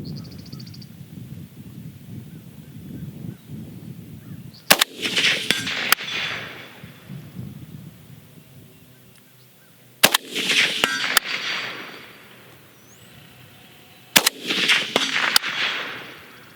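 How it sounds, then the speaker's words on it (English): AK rifle shots fired outdoors at a 25-yard target, several sharp loud cracks spaced apart, each followed by a brief ringing echo, over faint rustling background. "Okay, 5 shots, 5 hits."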